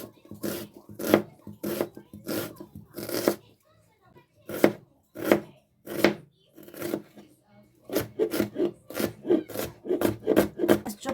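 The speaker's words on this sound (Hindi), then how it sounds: "मैंने प्याज चॉप लिया" Onion being chopped with a knife on a board for potato momos, in rapid bursts of crisp rhythmic chops close by, pausing briefly before a faster run.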